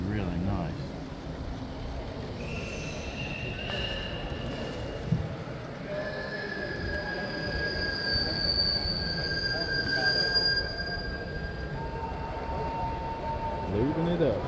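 A G scale live steam model train runs at a Spencer Shops steam-up, its wheels squealing in sustained high, wavering tones over steady rolling rumble while people talk nearby.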